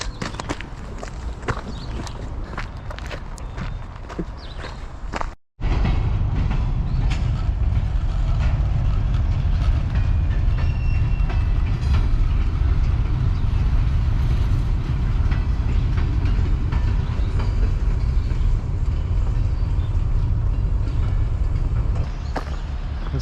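Rail cars rolling along tracks at a crossing where a freight train is being set up to park cars, a steady loud rumbling roar that continues for the whole stretch after a brief sharp dropout near the start.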